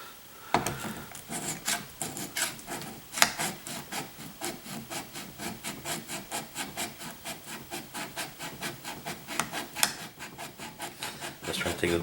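A chisel is rubbed back and forth on a sharpening stone to remove the burr, producing a quick, regular series of close, scratchy strokes that keeps a steady rhythm with a few sharper clicks.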